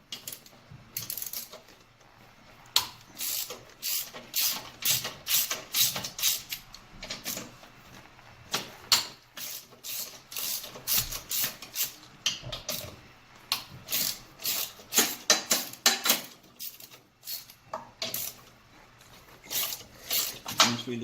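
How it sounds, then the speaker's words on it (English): Screws being loosened on the motor of a Woodway Mercury treadmill, a run of close, sharp metallic clicks and ratcheting ticks repeating steadily throughout with no talk. "I'm going to go ahead and loosen them up"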